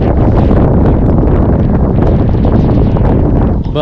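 Strong wind buffeting a microphone on a Florida beach at New Smyrna, a loud continuous roar with no pauses, no voices.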